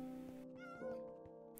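A Minecraft cat meows in a survival game, a short, fairly faint mew with harmonic tones over steady background game sounds, followed by a brief second cry near the end.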